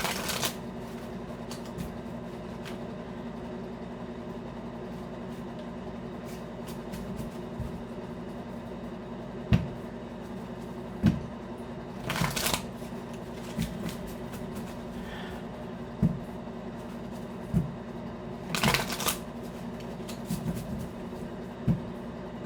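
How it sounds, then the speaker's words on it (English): A deck of tarot cards is shuffled by hand in a quiet room, soft riffles and a few sharper slaps of cards coming at irregular intervals. "I'm sorry, I just gotta shuffle these."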